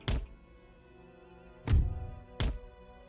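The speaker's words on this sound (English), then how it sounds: "A lot of my shots are bouncing, hitting this wall on the far side." Three heavy cannon impacts thud against a wall in Empire: Total War, one near the start and two close together near the end, each a deep, short boom trailing into a brief rumble.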